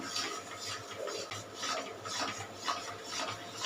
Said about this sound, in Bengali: এইভাবে নেড়ে নিয়ে যাবো গুড়টা গলে গেছে